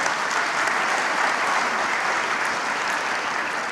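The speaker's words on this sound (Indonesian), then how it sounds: "Kita berikan tepuk tangan yang meriah untuk para orang tua kita." A large crowd at a university graduation ceremony at Universitas Mercu Buana gives the graduates' parents a loud, steady round of applause that fills the hall evenly from start to finish.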